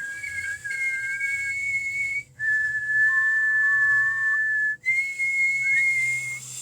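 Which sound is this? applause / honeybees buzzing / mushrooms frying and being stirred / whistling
whistling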